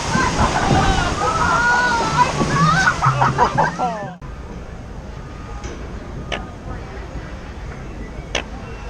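Waterfall on the Jungle Cruise ride at Disneyland, a steady loud rushing roar of falling water close by, with excited voices and cheering over it at first, then the wash continuing alone with a few faint clicks.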